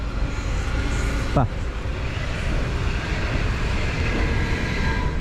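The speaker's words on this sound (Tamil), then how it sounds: "ட்ரெயின்" A train passes along a street in Lörrach, Germany: a continuous broad rumble with a brief rising whine early on. Street ambience sits underneath and a voice speaks over it.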